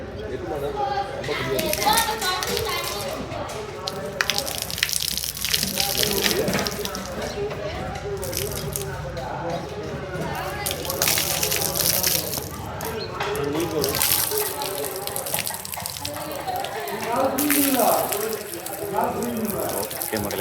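Water splashes and pours repeatedly at a village temple while children and other people talk and call out throughout, with the liquid sounds mixed under the lively voices.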